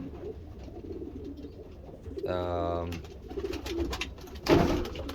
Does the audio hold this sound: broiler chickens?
no